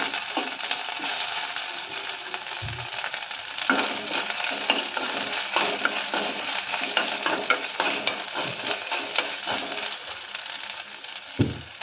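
Curry leaves fry with ginger garlic paste in a pan, giving a steady close sizzle and crackle throughout, with frequent scraping stir strokes and a few sharp clinks of the spoon against the pan.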